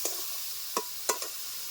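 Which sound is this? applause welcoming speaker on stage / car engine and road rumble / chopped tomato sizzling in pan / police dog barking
chopped tomato sizzling in pan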